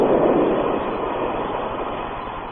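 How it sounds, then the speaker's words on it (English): A steam train in a 1936 radio drama arriving as a sound effect: a loud, steady rumbling roar that starts full and eases slightly over a few seconds, with no voices over it. "Here comes the train."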